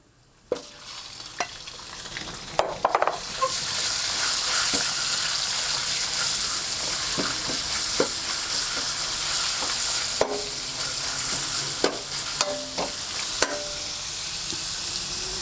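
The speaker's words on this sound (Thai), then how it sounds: "ตักให้เหลือน้ำมันไว้เพื่อจะ ทอดหมูกระเทียมของเรานะครับ" Pork frying in garlic oil in a pan over low heat, a steady close sizzle with intermittent stirring clicks and scrapes throughout, no talk.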